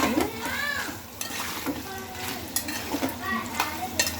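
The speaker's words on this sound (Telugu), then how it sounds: "ఇట్లా కలబెట్టుకుంటే అడుగు మాడకుండా కలబెట్టుకోవాలండి" Thick, simmering homemade chicken curry gravy stirred in a pot, with a spoon scraping and knocking against the pot over a soft bubbling sizzle, in repeated close strokes throughout.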